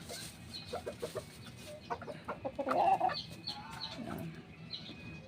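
Young gamefowl chickens, a Boston Sweater crossed with Macklin Hatch, cluck and chatter in short bursts nearby, with one louder squawk near the middle over a quiet yard background.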